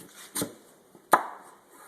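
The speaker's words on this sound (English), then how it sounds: "Let's cut off that beet. This is a very sharp knife." Two sharp knife chops through a raw beet on a cutting board, close and distinct, about three quarters of a second apart.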